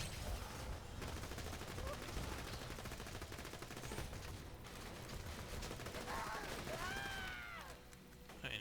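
Rapid bursts of gunfire from a gun in the video game Borderlands 2 run almost continuously under dense game noise, with a rising whine near the end.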